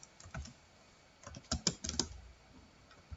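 Typing on a computer keyboard, a short burst of quiet, close key clicks with a denser cluster midway, no talking.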